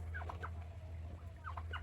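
Several turkeys in a backyard farm gobble in short bursts over a steady low hum, the calls fairly close and rising and falling in quick warbling phrases.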